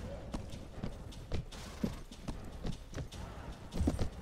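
Horses gallop in the Mount and Blade Warband video game, with a quick, rhythmic stream of hoof clip-clops at moderate distance and a few louder hoof hits near the end.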